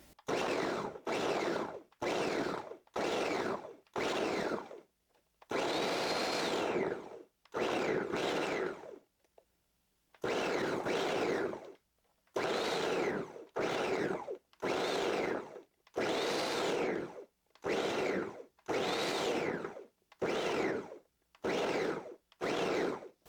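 A food processor pulses to break up cold butter in a dough, producing a long run of loud, close motor bursts, some short and some longer, separated by brief silences.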